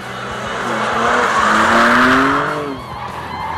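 Tires of a 450 hp BMW M2 CS squeal loudly on a race circuit, a rising, wavering howl that builds over a few seconds and then fades, with engine noise beneath.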